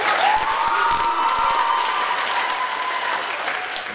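Pop concert audience clapping and cheering for a singer who wrote her own song, a full, continuous burst of applause with a sustained whoop and scattered shouts riding over it, loud and close throughout.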